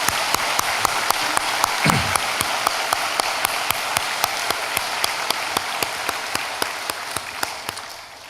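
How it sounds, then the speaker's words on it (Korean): A church congregation at Youngnak Church claps for the Hosanna choir, a steady crowd applause with sharp individual claps standing out, running evenly throughout at moderate distance, with no talk over it. "우리 잘하고 오라고 진짜 손뼉을 한번 쳐주겠습니다"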